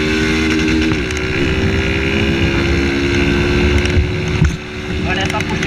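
Honda Fan 160 motorcycle fitted with a tin exhaust, ridden at speed on a road: a loud, steady engine roar with heavy wind buffeting that barely changes pitch, dipping briefly near the end.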